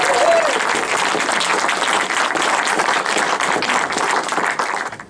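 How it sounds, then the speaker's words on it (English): Audience at a small cinema-theatre talk in St Leonards breaks into loud, sustained applause with some cheering, a dense roomful of clapping that fades slightly near the end. "Can we please give a massive cheer and a clap for Kelle Kingsley"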